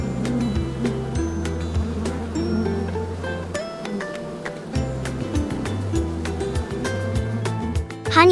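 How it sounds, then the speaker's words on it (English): A honeybee buzzes continuously close by, a steady droning hum layered over quiet background music. "Honeybee."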